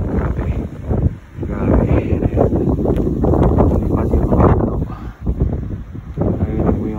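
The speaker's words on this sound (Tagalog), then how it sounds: "Ayan po yung hangin. Lakas." Strong blizzard wind in Red Deer, Alberta roars and buffets the microphone in loud gusts, with brief lulls, while a person speaks over it.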